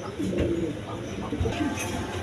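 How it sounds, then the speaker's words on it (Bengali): Beauty and Lotan breed pigeons, a pair sitting on eggs, coo softly and repeatedly at close range over a low background hum, with no talking. "দর্শক এখানে এক পেয়ার কবুতর আছে, ডিম নিয়ে বসে রয়েছে।"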